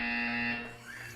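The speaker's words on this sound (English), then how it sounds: "When you hear the buzzer, stare at the art." A Portal 2 game buzzer sounds as one steady, harsh electronic tone lasting about a second, fairly faint, then fading into a softer electronic warble.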